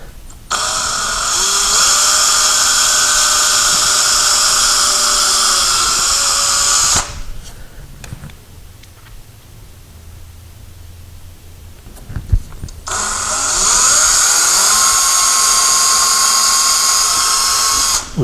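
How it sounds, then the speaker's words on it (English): A power drill with a 1/8 or 1/16 inch bit whines loudly for about seven seconds while boring a tiny pilot hole for sliding closet doors, pauses with quiet handling noises, then spins up again for a second long run. "We're going to drill a very, very tiny hole."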